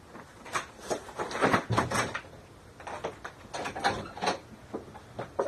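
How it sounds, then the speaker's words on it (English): Someone gets up and opens the front door, producing a run of soft clunks, footsteps, rattles and handling sounds at moderate distance, with no talk. "I gotta get up and get my door."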